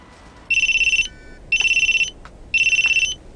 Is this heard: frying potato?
no